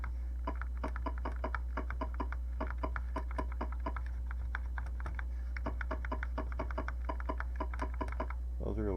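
Keys on a repaired Mitsumi computer keyboard, the type fitted to the Atari 1200XL and TI-99/4A, are tested one after another, producing a steady run of crisp, close clicks over a constant low electrical hum.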